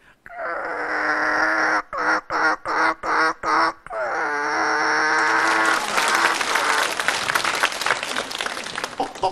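A man imitates a hen clucking with sustained nasal squawks broken into a quick run of choppy clucks, then studio audience applause and laughter swell loudly over the end.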